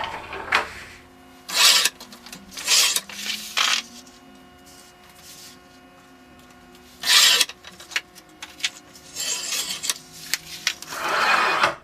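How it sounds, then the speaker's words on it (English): Blade of a paper cutter slicing a large photo print, several short rasping strokes spaced apart, close and crisp, with quiet handling noises between them. "now I'm going to trim my print, leave about 1/4 of an inch all around."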